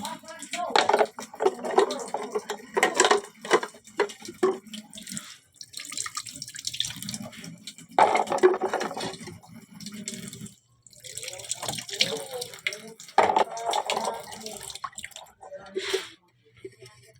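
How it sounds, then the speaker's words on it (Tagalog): Dishes are washed under a running tap in a home kitchen, with water splashing and dripping in uneven bursts alongside clinks and squishy scrubbing. A voice talks intermittently over the washing. "Hapit na ako mauman sa akong gihugas na plato."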